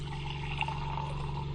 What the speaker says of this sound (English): You could hear the water pump kick in, and then it stops